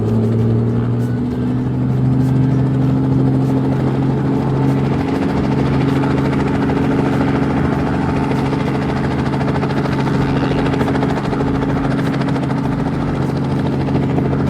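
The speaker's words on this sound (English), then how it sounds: "Start the engine." A toy vehicle's engine sound starts and keeps running loud and steady, a continuous droning hum with a whirring, helicopter-like tone and no talking.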